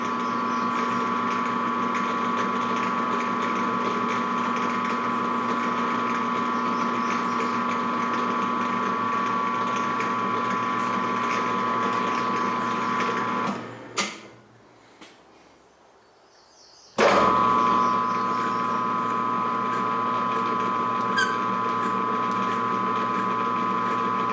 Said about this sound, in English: So looks like a pretty good thread. Aluminum, it's easy to thread.